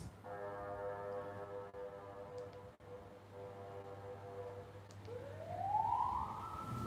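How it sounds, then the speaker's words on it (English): A siren wails over steady traffic rumble in Nigeria, its tone rising and sweeping louder toward the end as the vehicle draws nearer. "They hear the plenty siren everywhere."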